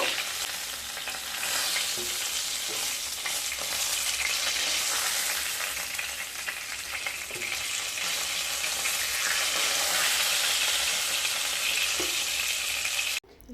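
Parshe fish frying in hot oil in a pan, a continuous bright crackling sizzle that stays loud and steady throughout, broken by a few soft stirring knocks, ending abruptly.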